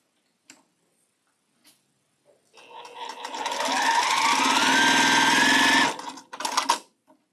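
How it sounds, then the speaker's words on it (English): Sewing machine stitching pieces of a pink quilt block together, a steady close whirring run of about three seconds after a few faint clicks, ending with short bursts of handling noise. "And let's sew these together."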